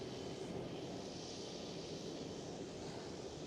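An Air France Airbus A220 departs runway 09 at Schiphol, its jet engines a distant, steady, broadband roar that stays even throughout, with no voices over it.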